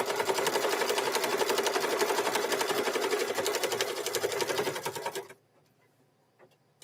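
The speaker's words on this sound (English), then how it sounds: "So we're going to run a stitch placement line there." A sewing machine runs a steady, rapid stitching rhythm while putting a border on a quilted mug rug, loud and continuous for about five seconds before stopping abruptly into near silence.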